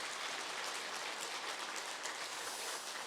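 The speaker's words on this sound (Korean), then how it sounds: "우리 사랑과 존경을 담아서 박수 한번 드렸으면 좋겠습니다" A church congregation claps together during a Sunday afternoon service, a dense, even, faint patter of many hands that sounds distant and lasts throughout.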